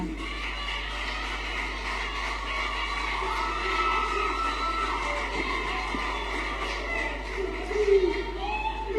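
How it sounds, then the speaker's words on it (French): A school audience cheers and shouts at a televised quiz match between two collèges, a dense, steady roar of young voices that swells briefly near the end. "Qu'est-ce que vous attendez pour applaudir?"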